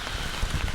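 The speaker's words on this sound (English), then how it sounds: "you can hear it's raining now" Rain falls steadily as a broad, close hiss, with a few heavier drops thudding on a nearby surface, outdoors at a park campsite, and no talk over it.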